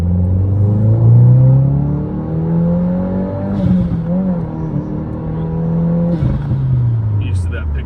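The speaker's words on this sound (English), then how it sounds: "Second gear pull." A 2022 Subaru WRX fitted with a Perrin charge pipe, ETS cold air intake and top-mount intercooler pulls hard in second gear, its engine note rising loudly from inside the car before easing off, with brief overlapping voices.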